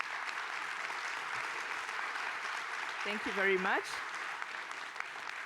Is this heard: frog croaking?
no